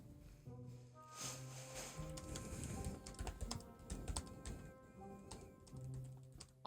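Several people type at once on computer keyboards during an online tabletop role-playing session, a dense stream of quick clicks and clacks with a steady soft hum behind it and no talking.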